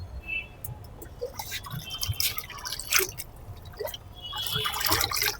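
Homemade liquid fertilizer of banana peel, sour buttermilk, fish amino acid and vegetable-waste water is poured onto terrace garden plants, making quiet, intermittent drips and small splashes with soft trickling between them.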